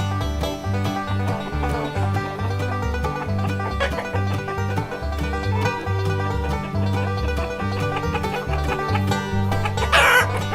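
Chickens cluck and a rooster calls over a repeating musical bed in a recorded intro, the birds and music blending continuously with a sharper burst near the end.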